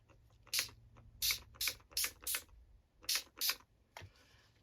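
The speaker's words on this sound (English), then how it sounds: "Let's spray with some water." Seven quick hissing spritzes from a spray bottle, spaced in short bursts, close and crisp, ending with a soft click.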